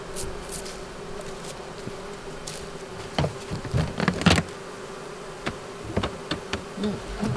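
Russian honey bees buzz steadily during a fall honey harvest in Maine, a close continuous drone with individual bees flying past the microphone and occasional knocks and thumps of hive frames.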